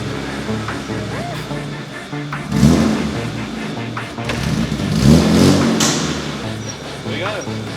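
A 1000 hp project car with 45,000 km on the clock revs on a dyno, its engine rising and falling in repeated surges. A voice talks underneath the revving.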